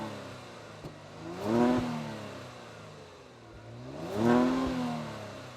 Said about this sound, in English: quick exhaust sound off